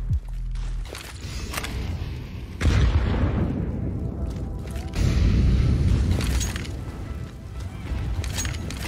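A high-explosive grenade goes off in a Counter-Strike match, heard as loud booming bursts over a dense background of game noise that swells and fades across the stretch.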